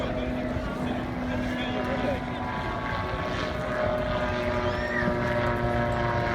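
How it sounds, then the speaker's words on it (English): A rotor aircraft at an airshow spins with a continuous droning, throbbing engine and rotor hum that stays loud and steady throughout, with faint background noise and possible voices underneath. "All the while, the rotor just keeps on spinning"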